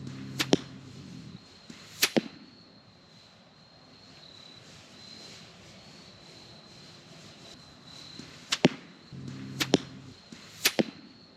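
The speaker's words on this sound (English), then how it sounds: "so you can get a mid-flight sound of that broadhead" Arrows tipped with 135 grain wide vented broadheads whipping past close by, sharp whooshes and snaps in two pairs at the start and end, with a faint quiet hum between them.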